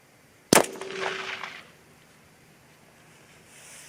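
A single sharp, loud .243 Win rifle shot firing a Nosler Partition round, a sudden crack with a ringing decay that fades over about a second, then quiet.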